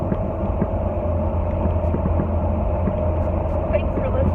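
Steady low interior road rumble from a car being driven, a continuous loud drone with engine hum throughout, heard alone without talking.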